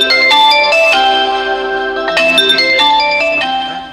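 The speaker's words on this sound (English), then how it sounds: "phone was just tinkling away" A mobile phone ringtone chimes out in a bright, repeating melodic pattern of tones, loud and close, with no talking over it.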